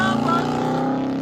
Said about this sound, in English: Dodge Durango SRT. Fully straight pipe.